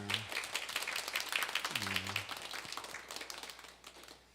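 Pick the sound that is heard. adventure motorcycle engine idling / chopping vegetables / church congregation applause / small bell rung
church congregation applause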